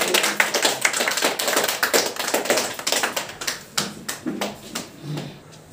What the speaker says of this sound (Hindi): कम से कम जोरदार थपड़ी से कम करे बात